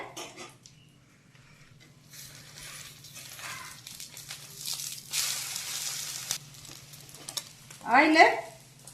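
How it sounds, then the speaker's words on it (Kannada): Beaten egg hits hot oil in a pan and fries with soft, intermittent sizzling and hissing bursts over a quiet background, ending with a brief sharper sound. "ಕಾವಲಿಗೆ ಸ್ವಲ್ಪ ಆಯಿಲ್ ಹಾಕಿ ಬೀಟ್ ಮಾಡಿದ ಮೊಟ್ಟೆನ ಈಗ ಹಾಕಿದೆ"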